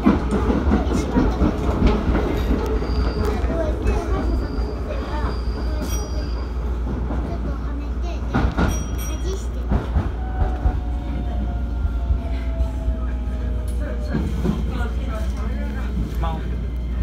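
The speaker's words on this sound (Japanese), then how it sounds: "この電車は7番線に到着いたします" A Shin-Keisei N800 series train rolls into Matsudo station, a steady loud rumble with wheel clatter and squealing brakes throughout, while a recorded announcement plays over the noise.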